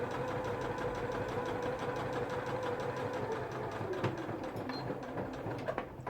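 Sewing machine running a straight stitch 2-3 mm from the edge to hold a fold in fabric, a quiet steady mechanical hum with fine rhythmic ticking throughout.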